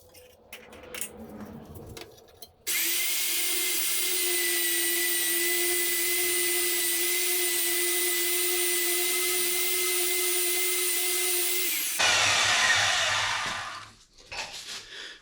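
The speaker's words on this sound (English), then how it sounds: "we're gonna walk over here and use the little portable hacksaw" A small portable hacksaw cutting stainless steel, a loud continuous high grinding whine that holds steady for about nine seconds, then changes pitch briefly before stopping, with quieter shop noise around it.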